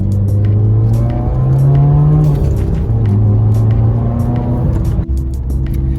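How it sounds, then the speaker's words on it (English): A manual-transmission car accelerating in third gear, its engine droning loud and close with rising pitch, then a brief dip near the end as revs settle. "we wanted to accelerate. So we are in third gear right now."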